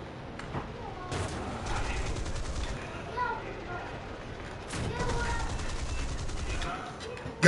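Rapid bursts of machine-gun fire from a Spitfire Mark 9 in a PS4 flight combat game, two long rattling volleys at moderate loudness under a steady engine drone.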